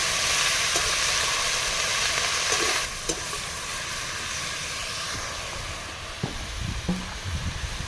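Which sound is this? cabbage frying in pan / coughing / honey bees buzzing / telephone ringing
cabbage frying in pan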